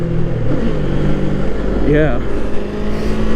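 A Kawasaki Eliminator motorcycle picks up speed, its engine drone climbing in pitch under steady wind rush while a rider speaks briefly over it.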